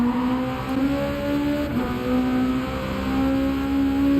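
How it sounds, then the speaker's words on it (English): A race car engine in Gran Turismo 7, on the Dragon Trail Gardens circuit in the rain, holds a loud, steady high-revving drone with a brief dip in pitch midway, alone without voices. "This car is so loud."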